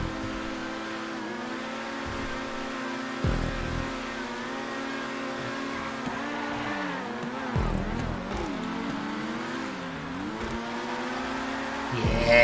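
A car accelerating hard in GTA 5 on a race track, its engine droning loud and close with rising, falling pitch through gear changes, a brief dip midway before revving again, no talking.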